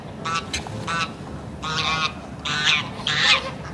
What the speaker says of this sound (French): Oh, il y a les oies là-bas.